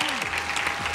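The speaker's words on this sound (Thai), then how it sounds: "ขอเสียงปรบมือกับช้อยส์หนุ่มๆด้วยครับ" A television studio audience applauds the male contestants on a Thai dating show, a dense, steady wash of clapping filling the whole moment.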